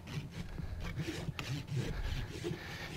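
A farrier's rasp files the underside of a horse's hoof at the shoe, a quick run of close, rhythmic scraping strokes at moderate loudness, with no talk.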